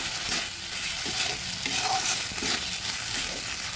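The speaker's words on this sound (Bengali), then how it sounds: "এবার ভালো করে ভেজে নেব।" Soaked and roasted Gobindobhog rice and spices fry in a pan for a vegetarian banana flower curry, a continuous close sizzle with stirring scrapes throughout and no speech.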